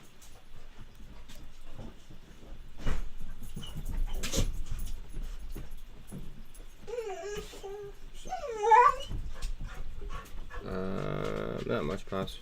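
Pups whimper and yip indoors in short high-pitched bursts, a few squeals rising above general room noise and talk near the middle, with a buzzy sound at the end.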